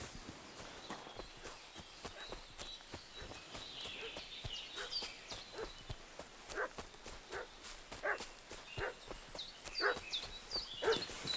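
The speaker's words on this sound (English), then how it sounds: "What's that dog making such a fuss about?" Dog barking in Kingdom Come: Deliverance II, a series of sharp, repeated barks at middle distance, with hooves clip-clopping and footsteps over a steady outdoor ambience.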